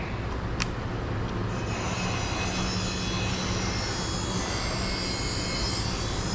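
A Husqvarna chainsaw engine idles steadily at close range, giving a continuous buzzing drone throughout.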